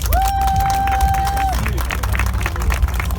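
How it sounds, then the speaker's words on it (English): A street crowd claps and cheers outdoors during a street hypnosis performance, loose scattered applause mixed with crowd hubbub, traffic rumble and a passing tonal whine. "Give her a round of applause."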